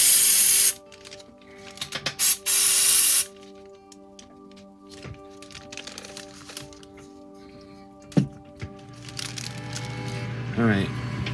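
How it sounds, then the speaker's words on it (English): Two loud hissing bursts of activator from an aerosol spray can early on, each about a second long, followed by quieter handling noises and faint clicks while building a plastic model kit. "So I want to spray the activator into here."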